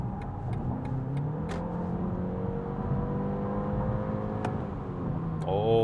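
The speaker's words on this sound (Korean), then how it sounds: "배터리도 다 썼으니까 가속 한 번만 해볼까요?" A BMW 530e M Sport plug-in hybrid with its battery used up accelerates on the road in Personal mode. The engine note rises steadily under a constant interior drone and climbs again near the end.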